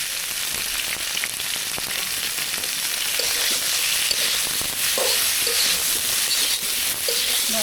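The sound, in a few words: cauliflower frying with turmeric and salt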